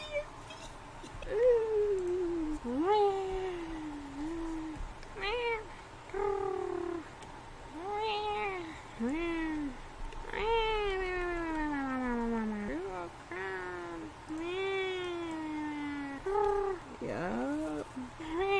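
A person's voice imitates a cat with a long string of rising and falling meows and purring, each call short and close, repeated one after another with brief pauses.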